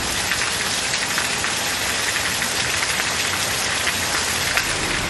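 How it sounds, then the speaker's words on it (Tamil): Moderate rain falls steadily, a dense even patter of drops hitting surfaces close by, with a faint engine idling somewhere underneath. "எந்த ஒரு அறிகுறியும் இல்லாமல் திடீரென மிதமான மழை பெய்தது"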